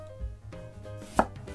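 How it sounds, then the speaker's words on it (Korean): A knife chops through tofu on a cutting board, a single distinct cut landing near the middle of a short, otherwise quiet stretch. "썰어줍니다"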